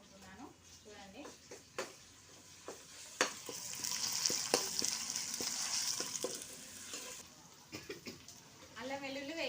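Ginger garlic paste fries in a pan with a bright, swelling sizzle in the middle, framed by clinks and scrapes of a spoon, and a voice speaks briefly near the end.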